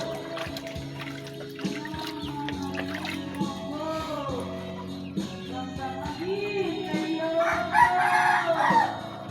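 A rooster crows loudly near at hand amid a flock of clucking chickens, the crow's rising and falling call standing out over steady background cackling.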